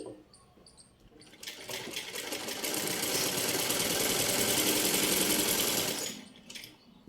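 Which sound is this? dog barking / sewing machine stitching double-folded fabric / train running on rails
sewing machine stitching double-folded fabric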